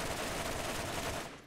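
Rapid assault-rifle fire from a large-magazine weapon in Borderlands Remastered, a dense unbroken burst that stays loud and close for over a second before trailing off at the end, with no voices.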